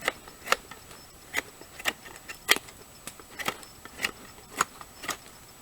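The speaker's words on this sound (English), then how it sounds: "you can even whittle and cut shavings with it." A Fairbairn-Sykes style fighting knife carves shavings from wood in repeated sharp scraping strokes, about a dozen crisp close cuts spaced roughly half a second apart in a quiet setting.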